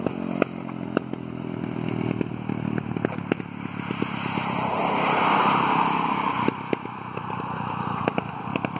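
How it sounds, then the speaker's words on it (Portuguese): A motorcycle engine rises and fades as it passes by at moderate distance, with clattering and scraping noises around it. "Uma moto. Muito difícil ver moto passando aqui."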